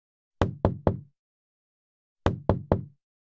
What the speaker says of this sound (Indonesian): suara ketukan pintu memecah kesunyian